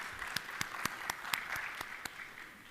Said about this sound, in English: A big round of applause and cheer for our chairman.